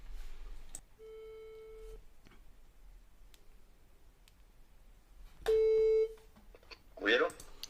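Ringback tone heard twice while placing an outgoing phone call: a steady electronic beep around one second long, then after a pause a louder repeat, followed by a brief noise burst; no talk over it.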